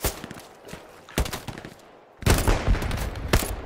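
Gunfire from the World War II shooter Hell Let Loose comes in ragged volleys of rapid shots, first scattered and sparse, then a dense loud burst of sustained automatic fire in the final second and a half, with no voices.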